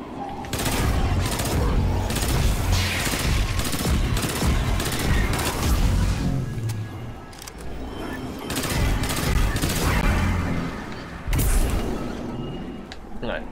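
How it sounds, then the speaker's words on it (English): Gunshots with a booming tail in the video game Destiny 2, rapid bursts of heavy firing with deep echoing thumps, loud and close, coming in waves amid game effects, with a voice talking over parts. "I love the boom noise at the end after you take the shot."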